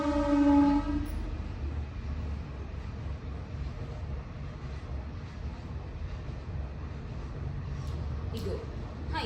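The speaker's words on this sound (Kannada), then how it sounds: "ಟ್ರೈನ್ ಹೋಗ್ತಿದೆ ಇಲ್ಲಿ" Train passing near a busy shopping market, opening with a loud horn blast and then a steady, heavy rumble of rolling wagons that lasts throughout, with faint voices in the background.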